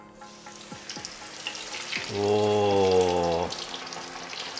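Chicken pieces fry in hot oil at about 350 degrees in a pan, a steady close sizzle and crackle that swells as the pieces go in, with a brief voice exclaiming.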